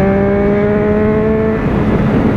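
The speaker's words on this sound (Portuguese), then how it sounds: "Acelerei, cortei giro." A car engine held at high revs with a steady harmonic drone that holds against the limiter, then breaks up into a rougher burble near the end; loud and close, no talk.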